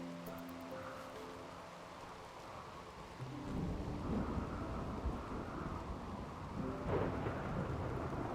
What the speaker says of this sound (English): it has been raining continuously for 2 days